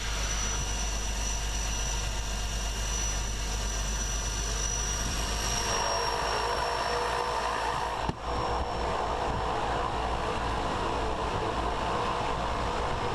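A Piper Cherokee Archer light aircraft's engine drones steadily and loudly throughout from inside the cabin, with one brief dip partway through.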